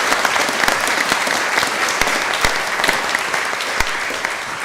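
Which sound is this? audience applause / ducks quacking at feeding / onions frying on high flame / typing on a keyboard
audience applause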